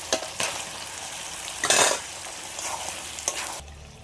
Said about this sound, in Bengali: এবার আমি যে চিকেনটা লবণ আর হলুদ মাখিয়ে রেখেছিলাম এটা দিয়ে দিচ্ছি